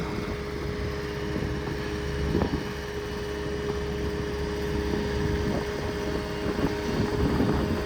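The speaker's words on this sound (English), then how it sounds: "Wind's starting to blow a little bit." Wind blowing at a high construction site where a crane moves a block: a steady, close, low rumble of gusts buffeting the microphone, with a faint constant mechanical hum underneath.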